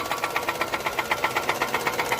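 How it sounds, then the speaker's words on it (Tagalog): An overhauled Nissan Sunny car engine runs steadily close by, with a rapid, even knocking pulse about five times a second over a continuous mechanical drone, and no talking. "Ayan, wala na, patok na ang makina."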